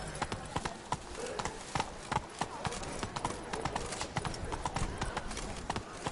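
Horse hooves gallop in The Witcher: Wild Hunt, a fast steady clip-clop of many close, sharp hoofbeats running through the whole stretch, with a rider's brief voice faintly underneath.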